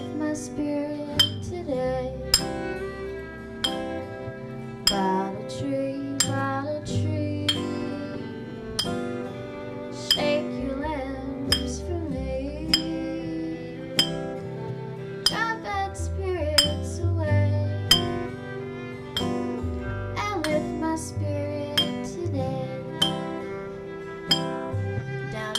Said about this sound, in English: I hear some glass bottles knocking.